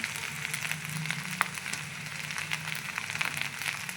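Red chili dropped into hot oil for a Gujarati idli tempering sizzles steadily in the pan, a soft, even crackling hiss that continues without a break and with no one talking.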